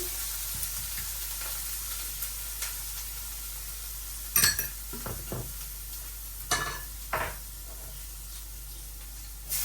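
Eggplant and cumin fry in a pan for a curry, with a faint, steady sizzle, a few soft stirring scrapes and clinks, and occasional brief louder bursts, all fairly quiet.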